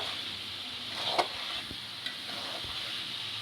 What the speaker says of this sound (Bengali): আগে তেলে ভেজে নিই